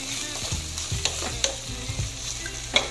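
Mung beans with bitter gourd being stirred in a pan, a utensil scraping and clinking against the metal in irregular strokes over a low background sizzle, close and moderately loud, with no talking.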